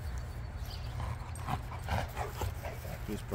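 A dog whimpers and yips in brief bursts after a fetch training session, fairly close, over a steady low rumble of background noise.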